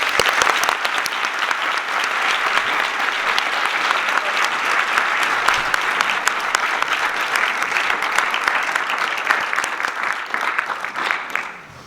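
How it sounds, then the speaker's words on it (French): A conference audience applauds guest Natacha Polony as she is welcomed: steady, dense clapping from a large crowd that holds for about twelve seconds and fades only at the very end. "Je vous demande d'applaudir"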